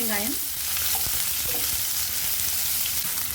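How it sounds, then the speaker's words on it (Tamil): Onion sautés in hot oil with mustard seeds and curry leaves, giving a loud, dense, continuous sizzle up close, broken by a few soft stirring scrapes near the start and no talk. "வெங்காயம் நல்லா வதங்கட்டும்."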